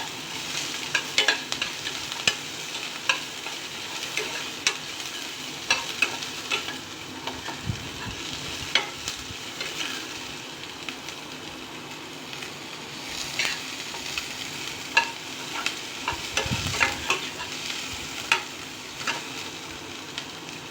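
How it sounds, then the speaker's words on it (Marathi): Onion frying in a pan and stirred repeatedly, giving a continuous soft sizzle broken by frequent scrapes and clacks of a spoon against the pan, fairly quiet and without talk. "हा जो कांदा घेतलेला आहे तो कांदा आपण त्याच्यामध्ये टाकणार"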